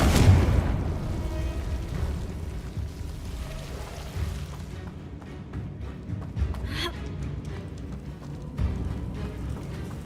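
A Confringo blasting spell goes off in Hogwarts Legacy, a loud explosive boom at the start followed by a second sharp burst partway through, set against rumbling game ambience.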